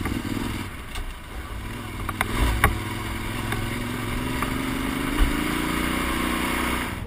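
A motorcycle rides along a road with a steady, close engine drone that rises and falls slightly under wind rush, with no talk.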